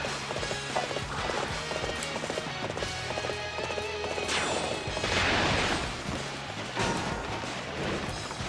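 A horse named Brilliance gallops in the battle game Dynasty Warriors 8 Empires. Rapid hoofbeats clatter throughout, mixed into a busy, loud wash of battle noise with no break.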